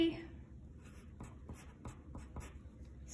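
Pen writing on paper while labeling a worksheet, producing a series of soft, short scratchy strokes at close range over a quiet low background hum.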